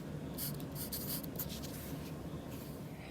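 A pen or pencil scratches steadily across paper while a name and class code are written, a soft, close, continuous scribbling with brief strokes and no talking.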